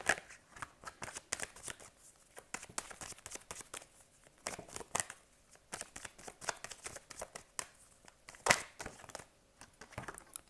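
Tarot cards being shuffled and drawn by hand, a long run of quick papery riffles and slaps with irregular rhythm, close and fairly quiet, with no talking.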